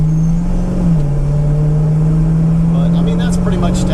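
A Plymouth Barracuda cruising at around 70 mph produces a steady, loud engine drone with continuous road noise inside the car, holding an even pitch throughout.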